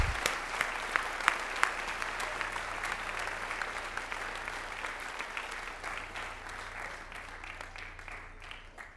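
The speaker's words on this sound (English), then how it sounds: "Let's give them an enormous round of applause" At a senior class awards ceremony, the audience applauds the top graduating students with a faint, spread-out patter of clapping, a few crisp claps standing out early before it slowly thins.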